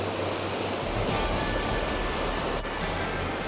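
Saidhara waterfall at Jharigam, Nabarangpur roars with loud, continuous rushing water, a dense broadband wash that fills the whole scene at close range without a break.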